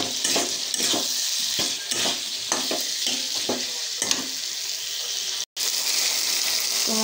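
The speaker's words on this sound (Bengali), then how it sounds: "এটা দিয়ে অল্প কষায় নিব মাংসটা" Chicken sautéing in a pan with a ground spice paste of cumin, coriander, chilli, garlic, ginger and onion, a loud continuous sizzle broken by repeated stirring scrapes and spoon knocks, cut by a brief dropout near the end.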